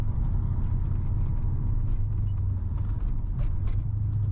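A Commodore with a T56 manual gearbox drives along, its engine a steady low rumble with road noise from inside the cabin and no talking.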